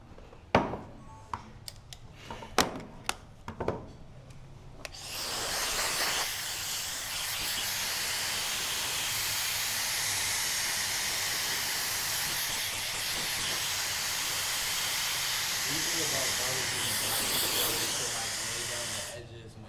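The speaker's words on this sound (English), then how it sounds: "So I'll just spray a little hairspray." A few short clicks and taps, then a long steady hiss of hairspray from an aerosol can, held continuously at close range.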